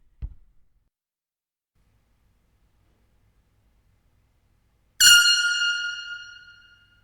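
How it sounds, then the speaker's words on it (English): A dull thump, then silence before a single loud air horn blast cuts in, holding its tone and slowly fading into a long echoing tail in a large gymnasium. "So we're going to hit that with the air horn now just to see what it sounds like."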